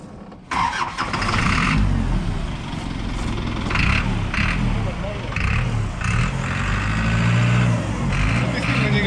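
A contract diesel engine in a Mazda Titan truck converted into a dump truck, idling steadily with a low, rough rumble and clattering tone throughout, while someone talks over it nearby.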